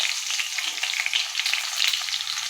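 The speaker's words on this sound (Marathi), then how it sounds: "आता मी याच्यामध्ये हे भरून घेतलेली वांगी आहेत ना ते टाकून घेते" Stuffed brinjals dropped into hot oil with popped mustard seeds and cumin sizzle and fry steadily, a dense, continuous crackling hiss held close throughout with no talking.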